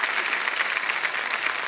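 A studio audience on the KBC India quiz show applauds in a continuous, even burst of many hands clapping, short and sustained, with no talk over it.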